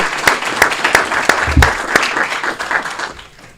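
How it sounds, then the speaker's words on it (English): An audience at a city council meeting applauds for several seconds, with steady, moderately loud clapping from a mid-sized crowd that thins out toward the end. "Another round of applause for Miss Jamie Lee."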